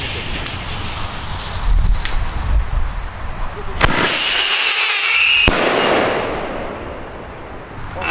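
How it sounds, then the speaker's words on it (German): A 150mm ABA Rattlebang ground shell firework goes off outdoors at a New Year's Eve display with a dense crackling rattle, several sharp bangs and a hissing burst, loud and close, then fading. "Also jetzt kommt der Rattlebang von ABA."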